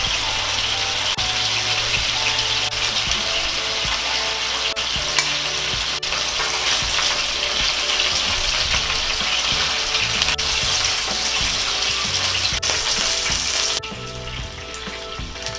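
Chicken pieces frying in a pan over lowered heat for chicken hamonado, a steady loud sizzle with occasional stirring, continuous throughout and easing slightly near the end.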